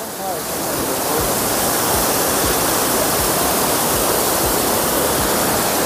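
Waterfall water pours and rushes over stones in a dense, continuous close-up roar that holds steady after a brief quieter start, with no talk.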